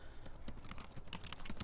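Someone types on a computer keyboard in a quiet room, producing soft, irregular clicks and taps in quick bursts with no talking.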